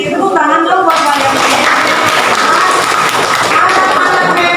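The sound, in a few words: class applauding for the children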